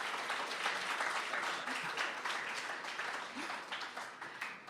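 An audience at a law review symposium applauds panelists and a moderator, a dense, sustained wash of many hands clapping that stays even and fades slightly at the end.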